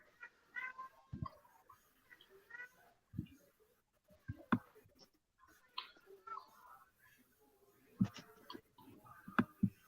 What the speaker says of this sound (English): You made my cat very concerned. now my cat can shut up.